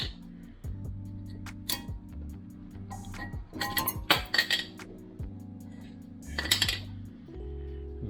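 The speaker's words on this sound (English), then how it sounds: "Now here we can pop the pads out." Brake pads being popped out of a Range Rover Sport brake caliper: a series of sharp metallic clinks and clanks, scrapes and knocks, close up and irregular, with a low steady hum underneath.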